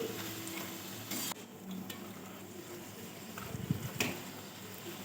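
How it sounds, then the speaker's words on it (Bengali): Luchi puris deep-fry in hot oil with a quiet, soft sizzle and bubbling, broken by occasional stirring clinks and scrapes of a utensil. "আমি কিন্তু এইভাবে লুচিগুলো সব ভেজে নিচ্ছি"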